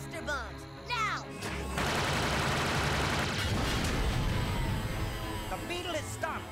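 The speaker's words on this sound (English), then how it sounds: "Firing cluster bombs, now!" Cartoon cluster bombs fired in Super Robot Monkey Team Hyperforce Go!: a dense, roaring barrage of rapid blasts and crackling impacts swells loudly and rolls on for several seconds, with brief voices and whooshes at the start and end.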